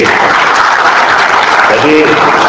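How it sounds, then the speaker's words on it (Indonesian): Audience applause at a discussion event with the Indonesian cooperatives minister: steady, dense clapping filling the room throughout, with some voices faintly mixed underneath. "Tepuk tangan Pak Ferry."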